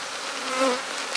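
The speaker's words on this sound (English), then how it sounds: "a lot of these bees you see flying around because I'm standing in front of the entrance" Honey bees fly around a hive entrance, producing a steady, close buzzing drone that rises slightly midway and carries on alone without talk.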